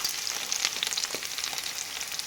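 Goat meat and tomatoes frying in a pot on reduced heat, a steady close sizzle with soft crackles throughout.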